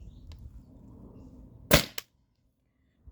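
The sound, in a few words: test firing a Tippmann TPX paintball pistol on CO2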